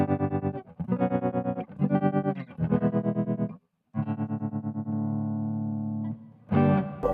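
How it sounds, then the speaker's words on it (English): Electric guitar played through an Ammoon PockAmp with tremolo effect: strummed chords pulse rapidly in volume, several phrases separated by a brief gap, then a sustained chord and a final strum. "Into tremolo."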